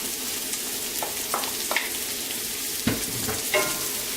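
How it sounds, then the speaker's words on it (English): Mushrooms sautéing with thyme in a pan give a steady close sizzle and frying hiss, broken by a few light scrapes and clinks of a utensil stirring against the pan. "Now we are going to just saute it for"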